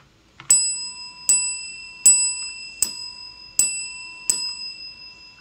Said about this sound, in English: Thanks to the analog terminal bell,